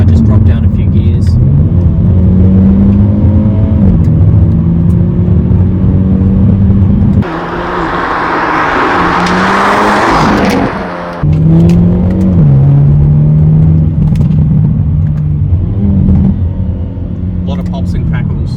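Hyundai i30 N Sedan engine revving hard after a downshift, loud and close, with rising and falling engine tones through the run and a harsh roaring burst in the middle.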